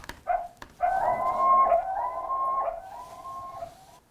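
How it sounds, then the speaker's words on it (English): A siren-like synth tone in a hip-hop beat, a wavering, rising-and-falling wail held for about three seconds after two short stabs, loud and alone. "it sounds like a siren to me"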